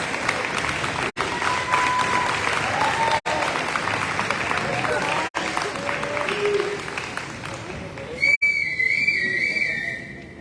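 An audience at a high school athletic banquet bursts into sustained applause with whistles for top seniors, a dense steady wash of clapping with shrill whistles rising near the end.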